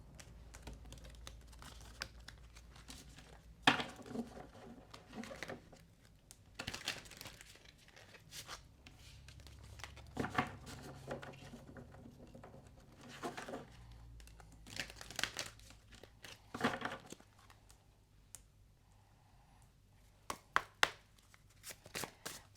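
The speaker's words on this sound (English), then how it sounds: "Let's just give your clarifiers a quick shuffle," Tarot cards are shuffled and handled with soft crinkly, riffling bursts and taps, fairly quiet with pauses between, no talking.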